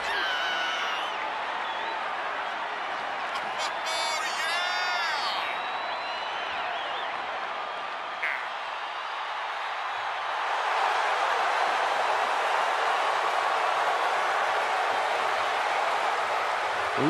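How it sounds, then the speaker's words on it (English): A roaring crowd ovation in a WWE wrestling video game greets Bianca Belair: a steady wash of cheering that swells louder in the second half, with brief whoops and whistles early on and no clear talk. "Listen to this ovation."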